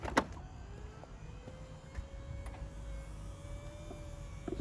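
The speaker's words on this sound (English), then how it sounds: "Got electric tailgate." An electric tailgate on a 2013 Mercedes-Benz C220 CDI AMG Sport Plus estate runs with a steady, quiet motor whine and a slowly rising tone, opening with a soft click and ending with faint clunks.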